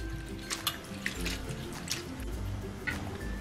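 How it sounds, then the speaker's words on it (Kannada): Flattened rice (poha) washed by hand in a bowl of water, with wet squishing and sloshing, dripping splashes and soft irregular stirring, close and steady. "ನೀರು ಹಾಕ್ಬಿಟ್ಟು 2 ಸಲ ಇದನ್ನು ಅವಲಕ್ಕಿನ ತೊಳ್ಕೊಳ್ಳೋಣ ಸ್ವಲ್ಪ"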